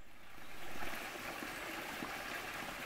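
Water pouring steadily into a full basin at an outdoor shelter along a hiking trail, a soft, continuous trickling and babbling rush heard close by.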